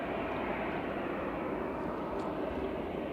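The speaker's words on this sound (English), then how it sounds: "EasyJet to Paris All is lining up now with flight 2115." An EasyJet airliner lining up on the runway at Manchester Airport, heard as a steady, continuous distant jet engine rumble and roar with no other sounds breaking through.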